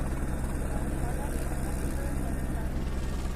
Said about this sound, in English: Is the Trident helicopter.